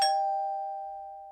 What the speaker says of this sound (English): Prompted by the sound of someone ringing the bell to William's room